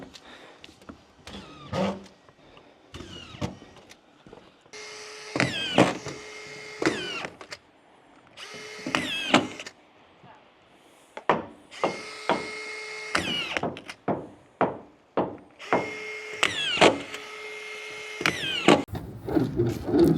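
A circular saw fitted with a table saw attachment rips lumber in loud, repeated cuts, each rising to a high whine as the blade bites and then dropping back. Bangs and knocks of handled wood sound between passes.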